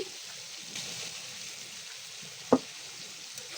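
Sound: fried prawns added to spice paste, sizzling

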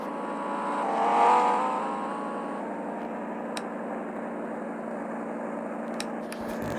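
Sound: car driving in a video game

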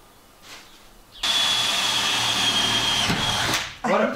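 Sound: power drill drilling with a new bit

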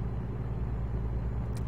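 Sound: Peterbilt truck engine in video game American Truck Simulator

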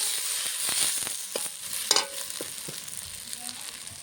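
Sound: stirring potatoes and vegetables in pan

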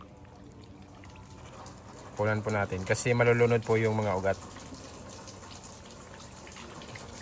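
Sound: excess nutrient water poured out of lettuce hydroponics tray

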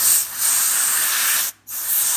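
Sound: compressed air can blowing to dry a water-damaged iPhone

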